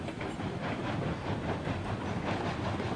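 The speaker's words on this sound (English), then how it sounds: "It actually chugs kind of slower to life" A Montezuma steam locomotive in the game RailRoads Online chugs steadily, a dense, loud rolling rumble with a faint rhythmic pulse of exhaust beats and no voices over it.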